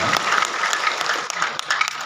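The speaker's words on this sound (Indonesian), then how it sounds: "Tepuk tangan buat Renner Internet Internasional" A crowd at a grand launching event for Renner Internet Internasional breaks into loud, dense applause. The clapping is close and steady and lasts the full two seconds.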